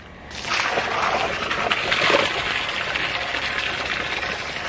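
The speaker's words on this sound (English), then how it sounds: "Water trough's still going strong." Water rushes from a hose into a water trough, starting abruptly and then pouring loudly and steadily with a splashing, sloshing hiss, near and alone.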